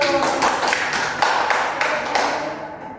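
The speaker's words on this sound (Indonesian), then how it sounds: "Oke, tepuk tangan dulu" A class of students claps together in a room, a steady crackle of many hands with rhythmic accented beats running throughout, close and fairly loud before tapering off at the end.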